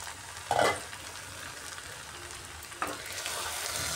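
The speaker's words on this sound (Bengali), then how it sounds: "এবার ঢাকাটা সরিয়ে ভালো করে কষিয়ে নিতে হবে।" A pan of boiled kabuli chickpeas and potatoes for ghugni is stirred and fried uncovered, with a soft steady sizzle and two sharp scrapes of a spatula against the pan.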